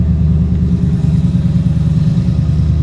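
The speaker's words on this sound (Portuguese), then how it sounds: "Olha o ronco desse carro." Porsche Panamera engine idling with a deep, loud, steady throb and slight rhythmic pulsing, running alone without talk over it.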